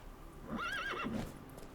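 Horse in The Witcher 3 video game gives a single short whinny with a rising and falling pitch, fairly faint and alone.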